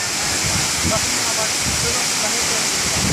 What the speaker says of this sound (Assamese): ইমান ওপৰৰ পৰা পানী পৰিছে